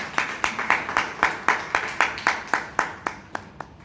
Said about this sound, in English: let's give a big round of applause to the evaluators and all evaluators faculty as well